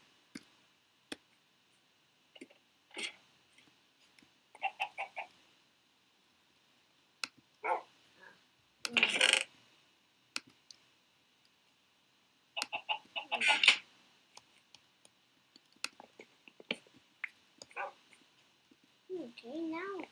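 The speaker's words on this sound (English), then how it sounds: "my dog." Dog barks from the Minecraft video game, scattered short yips and woofs spread across quiet stretches, with a couple of louder bursts and occasional faint talk.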